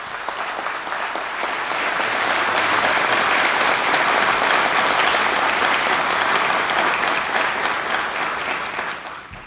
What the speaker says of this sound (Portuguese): peço aos meus pares uma salva de palmas para os nossos parlamentares.